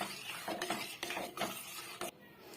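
Milk powder being stirred into milk in a bowl with a spoon, scraping and clinking against the sides in short, uneven strokes, fairly close and quiet, with no talking.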